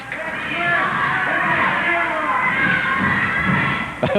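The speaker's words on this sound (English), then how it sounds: "Fans along the ringside yelling, "We want Chris."" Ringside fans at a 1980s Portland pro wrestling match yell and chant in a dense, loud, sustained crowd roar, with a few sharp thumps near the end.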